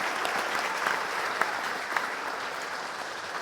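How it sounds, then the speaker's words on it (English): Steady audience applause and cheering at a stand-up comedy show, a dense, even wash of many hands clapping throughout with a couple of louder individual claps. "I want everyone round of applause"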